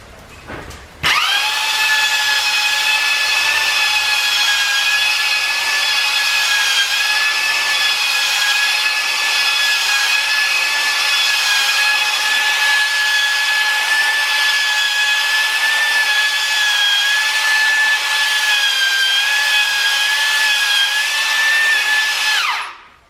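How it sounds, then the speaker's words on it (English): An engine cylinder from a hit-and-miss engine being honed with a power tool in a machine shop: a loud, steady, high-pitched whine that holds level for about twenty seconds, then cuts off, with no speech. "to hone the cylinder, get the proper surface finish, take out the last couple thousandths."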